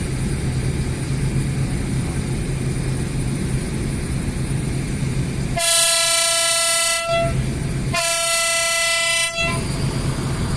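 Two long, loud horn blasts from an Isuzu MU-X sound over its steady rumbling engine, the second following a short pause after the first.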